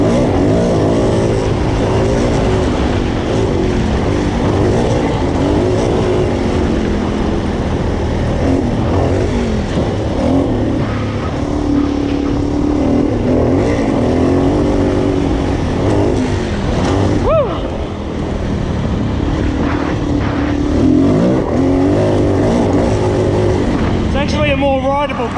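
A 2019 Suzuki DRZ400E dual-sport motorcycle engine running steadily while ridden, loud and continuous with rising and falling revs and rushing wind, under a rider talking throughout.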